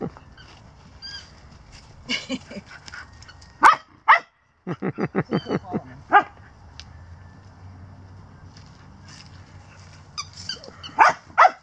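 A young male puppy barks in short, sharp bursts, a quick run of yips clustered near the middle and a few more scattered later, close by with quiet gaps between.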